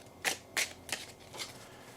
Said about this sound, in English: We are going to throw a card from the Making Magic Oracle. We're going to shuffle.